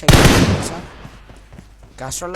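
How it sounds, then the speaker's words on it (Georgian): A single gunshot in a mobile shooting video game fires with a sharp loud crack and short echoing tail, followed by a faint brief game sound effect. "გასროლა"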